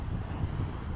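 Steady low wind rumble buffeting the microphone outdoors on a clear, freezing day in Western Australia, loud and constant throughout with no voices.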